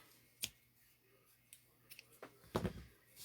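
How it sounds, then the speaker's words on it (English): Scissors are set down and handled. A few faint, quiet clicks and light taps are spread over a few seconds, with a slightly louder cluster of clatter near the end. "And my scissors down here."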